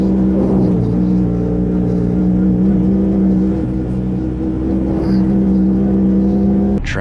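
A 2020 Honda Talon 1000X-4 four-seat side-by-side with Fox Live Valve suspension drones loudly and steadily at close range on a trail ride, the engine holding a strong, even hum with slight rises and dips and no talk.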